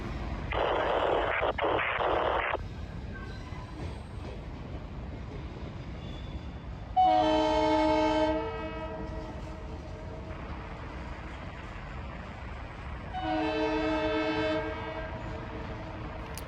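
A Norfolk Southern local freight, P92, turns on a wye early in the morning at Salisbury, North Carolina. Its diesel engine rumbles steadily and the horn sounds three times, with two long blasts and a short toot between them.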